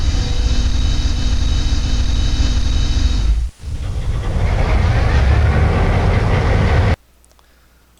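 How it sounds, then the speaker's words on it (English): Cold start of a locomotive engine, a loud continuous rumbling roar that dips briefly to near silence partway through, then surges back rough and steady before cutting off abruptly. "a cold start of the locomotive, which sounds like this"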